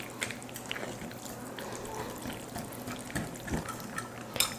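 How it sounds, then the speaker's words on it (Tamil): Water poured and stirred into thick paniyaram batter in a bowl, soft close watery splashes and wet mixing noises with small clicks, fairly quiet and continuous. "ரொம்ப கெட்டியாக இருக்குது, கொஞ்சம் தண்ணி சேர்த்துக்கலாம்."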